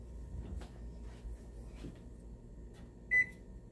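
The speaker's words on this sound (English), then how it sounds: "Sorry, I had to turn off the microwave." A single short electronic microwave oven beep rings out near the end over a low, steady background hum.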